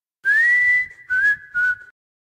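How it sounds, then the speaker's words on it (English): A whistled melody line from a remix of a song: one long rising held note followed by two shorter notes, clear, close and alone. "this one's another whistle on top of it too"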